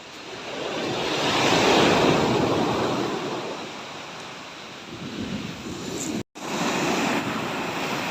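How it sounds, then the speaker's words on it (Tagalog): Big ocean waves roar in a broad, rushing wash that swells and fades, with wind buffeting the microphone and a brief dropout near the end. "ang lalaki ng alon"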